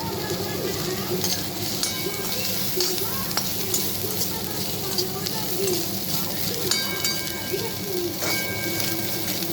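Soybean chunks fry in a pan for a pressure-cooker biryani, giving a steady, close sizzle that runs unbroken throughout, with faint bird chirps in the background.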